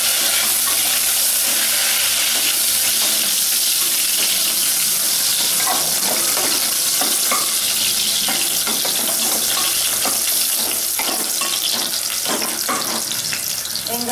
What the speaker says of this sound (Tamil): வெங்காயம் இந்த அளவுக்கு வதங்கினது போதும்